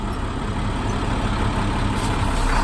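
A Class B truck's heavy diesel engine drones low and steady, with a slight rise in revs as the accelerator is tapped while the truck in drive tugs against its parking brake, close and continuous.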